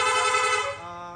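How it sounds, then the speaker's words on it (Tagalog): A motorcycle's aftermarket rapid horn blares loud and harsh close by in one continuous rapid buzzing blast, trailing off after about a second. "Rapid horn."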